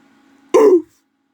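A voice imitates the Roblox "oof" sound effect, originally from the game Messiah, with one short, loud, grunted "oof" that stops sharply, close to the mic with nothing else around it.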